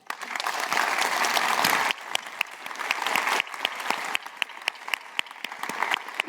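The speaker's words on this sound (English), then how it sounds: "let's give them a round of applause" Audience at the BSidesSF 2019 security conference clapping in a dense burst of applause that thins toward scattered, individual claps, close and loud in a hall.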